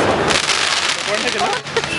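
Fireworks and firecrackers bursting on the eve of Gudhi Padwa, the Hindu new year, in Dombivli, India, a dense continuous crackle of outdoor explosions with a few sharper pops standing out near the end.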